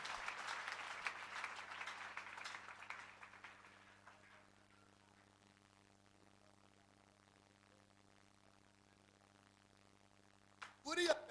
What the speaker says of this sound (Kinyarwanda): Komera amashyi Imana mu izina rya Yesu